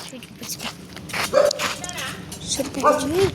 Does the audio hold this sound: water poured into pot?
no